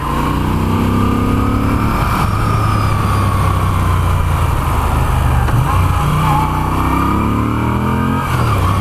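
Moto Guzzi V7 III Special motorcycle engine running stock on the road, a loud continuous throb with rising and falling revs and steady wind rush throughout, no talking.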